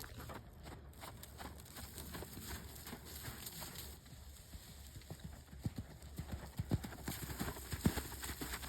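Hooves of a ridden horse clip-clop at a walk, quiet at first and then louder and more uneven later on, heard close up over outdoor background with no talking.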